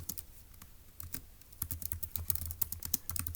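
Someone types on a computer keyboard in quick irregular bursts of crisp clicks and key taps, close up and moderately loud, starting sparse and growing busier, with no talking.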